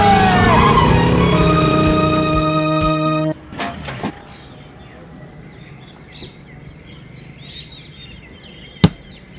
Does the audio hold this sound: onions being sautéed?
no